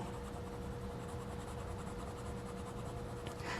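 A fountain pen with a fine nib scratches across thin Tomoe River paper, a faint, steady soft scratching that runs continuously and close up.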